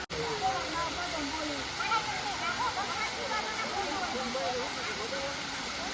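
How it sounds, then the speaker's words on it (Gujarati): Sunsar waterfall near Bhiloda, Gujarat, pours with a steady, dense rush of falling water that never lets up, while people's voices murmur faintly beneath it. "ધોધ કંઈક આ પ્રકારે હાલ વહી રહ્યો છે"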